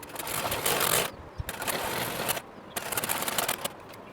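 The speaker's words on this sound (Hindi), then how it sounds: "चलिए इसको सिल लेते हैं" Sewing machine stitching the back pieces of trousers, close and steady, with whirring runs broken by short stops between bursts of stitching.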